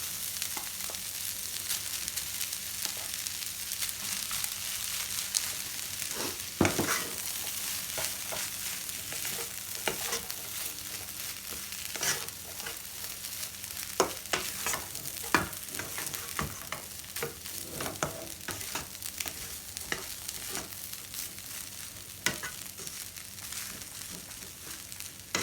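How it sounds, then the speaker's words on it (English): Rice mixed in a hot frying pan for simple Chinese fried rice, with a continuous sizzle and repeated spatula scrapes and clacks against the pan at an irregular rhythm, close and fairly loud throughout. "Then you start mixing your rice"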